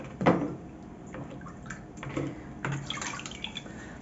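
Sublimated ceramic mug dipped into water, a burst of splashing and sloshing followed by trickling drips and a couple of smaller splashes, close by.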